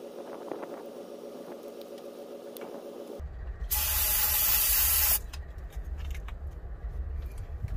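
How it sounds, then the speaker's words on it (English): Carburetor cleaner sprays into the engine of a 1970 GMC utility body pickup that sat for 19 years. A loud, steady hiss lasts about two seconds, with light clinks and rattles before and after. "Carburetor cleaner, not starting fluid."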